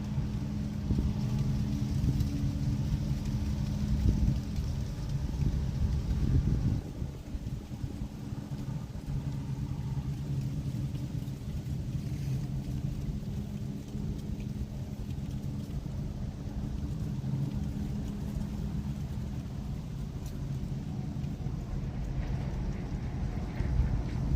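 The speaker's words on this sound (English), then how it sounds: "Kind of fighting the wind a little bit now" Wind roars steadily against the microphone outdoors, a loud, continuous low rumble with gusty buffeting that lasts the whole stretch, with no voices.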